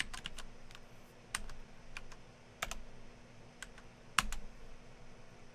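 A credit card number being typed on a computer keyboard: irregular bursts of crisp, close key clicks with brief pauses between groups, over a faint steady hum.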